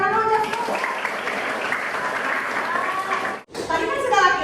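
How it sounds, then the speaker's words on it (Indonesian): Children in a classroom clap their hands together in a lively burst of applause, with young voices and chatter mixed in, a brief pause near the end, then more talk. "Tepuk tangan dulu, Jas."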